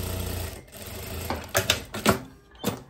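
A sewing machine stitches a pocket seam on tailored shorts in short bursts: a steady run, then several quick, separate clattering stitch runs close by.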